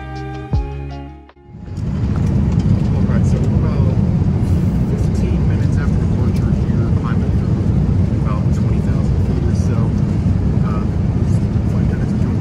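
A United Boeing 787-9 airliner taxiing after pushback, heard from inside the cabin as a steady loud low roar and rumble that begins after a brief quieter start.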